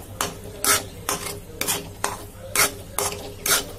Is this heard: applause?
no